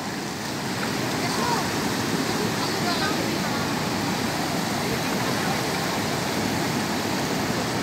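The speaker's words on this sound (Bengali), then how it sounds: "এই কাসারা ওয়াটারফল।" Kasara waterfall on Chandragiri hill in Odisha pours in a loud, unbroken roar of falling water that fills the whole scene from start to finish.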